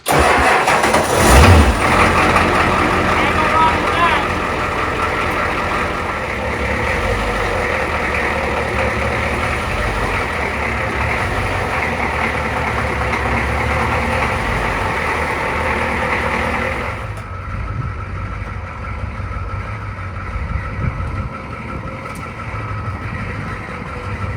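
Glow plug diesel engine cranks and fires on a cold morning around minus two degrees, then settles into a steady, loud idle that drops in intensity partway through, with no talking.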